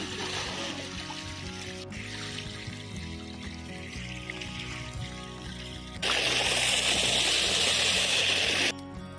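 Water from a pumpset pipe pours steadily into a farm field, a continuous rushing splash that grows louder and brighter for a few seconds near the end, with the machine running in the distance.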